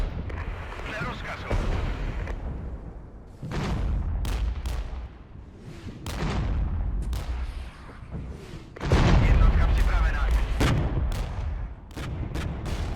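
Artillery and tank guns in the Regiments war game fire at a T-72 tank and BMP vehicles: repeated heavy booms and sharp cracks in irregular bursts, some close and loud, over rumbling battlefield noise while someone talks.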